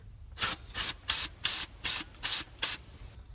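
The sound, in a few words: spray can of cleaner sprayed on engine gunk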